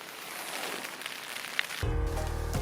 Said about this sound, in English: we're on the timber trail. It's already raining.